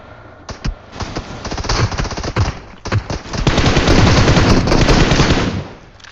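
Loud bursts of rapid automatic gunfire in PUBG Mobile on the Vikendi map rattle close by, growing into a sustained stream of shots before cutting off.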